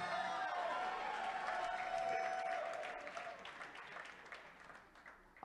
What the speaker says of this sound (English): If I just wait for the awkward moment, you guys start cheering.